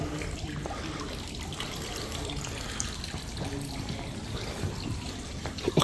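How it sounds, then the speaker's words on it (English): Water feature inside an airport terminal running, a continuous splashing trickle of falling water heard close and steady, with faint background activity and a louder bump near the end. "A water feature."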